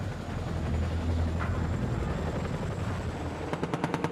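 An Apache military helicopter gives a steady, heavy low rumble that turns into a burst of rapid, evenly spaced chopping pulses toward the end, with no voices.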